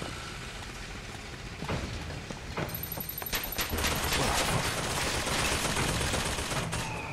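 Shotgun blasts in BioShock Infinite, several loud broadband bursts from around the third second onward amid dense continuous gunfire and game noise, with no voices heard.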